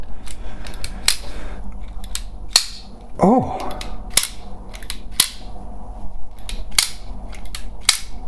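A power door lock actuator from a Volvo V70, taken apart on a bench, gives a series of sharp mechanical clicks and snaps with a brief whirring buzz in the middle, close and fairly loud, with a short spoken exclamation.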